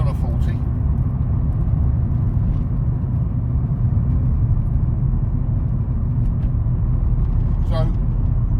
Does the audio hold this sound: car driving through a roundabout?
yes